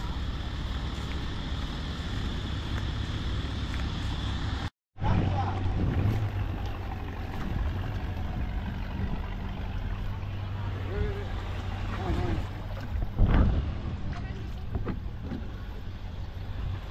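A tour boat bound for Phi Phi Island in Thailand idles at the pier, a steady low engine rumble mixed with wind buffeting the microphone, with a brief dropout and a few thumps; people talk nearby.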